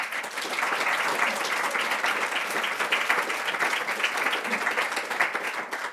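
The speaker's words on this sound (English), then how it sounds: "J'aimerais qu'on applaudisse nos débatteurs." Audience at a roundtable colloquium applauds the debaters with sustained, dense clapping at steady loudness from start to finish, alone with no talk.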